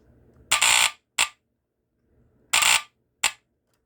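A vintage FireX FX1014 smoke detector emits loud, harsh alarm bursts after its test button is pressed, two groups each made of a long blast followed by a short one, separated by silence.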